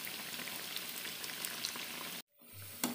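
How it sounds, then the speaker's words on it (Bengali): Pakoras sizzle and crackle steadily in hot oil while being turned, a dense close frying hiss that cuts off abruptly near the end before faint sizzling resumes. "উল্টে পাল্টে ভালো করে ভেজে নিয়ে তুলে নিচ্ছি"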